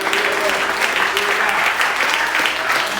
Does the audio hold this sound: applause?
yes